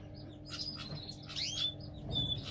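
A canary sings in a breeding setup, giving short high chirps and brief trilling phrases in several bursts over a steady low room hum.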